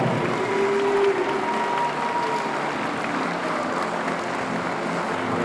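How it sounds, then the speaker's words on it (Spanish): Spectators clapping for an archer at the final of a Spanish national recurve archery championship, a steady wash of crowd applause lasting several seconds with a faint tonal hum running underneath. "El aplauso para Miguel Ángel Pifarré Trujillo."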